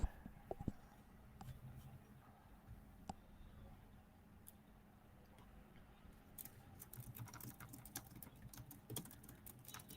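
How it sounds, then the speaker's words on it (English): Quiet, steady clicking of keys being typed on a computer keyboard, with bursts of faster tapping toward the end over a low room hum. "I can hear you typing."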